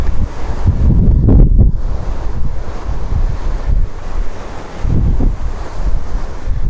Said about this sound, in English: It's the tramontana wind known in the region.